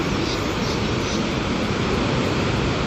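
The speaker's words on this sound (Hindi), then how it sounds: "Sound of the river flowing." A mountain river near Manali rushes with constant broadband water noise, loud and close, a steady unbroken roar with no other sounds.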